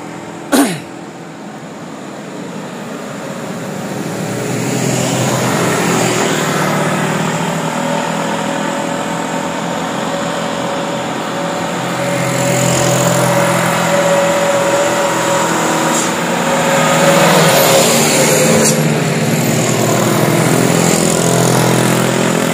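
Heavily loaded trucks rumble past one after another on a hillside road, their engines droning loud and close in long swelling passes.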